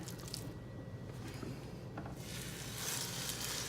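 Pork tenderloin searing in a hot cast iron pan gives a steady, close hiss and crackle that runs the whole time and grows slightly brighter near the end.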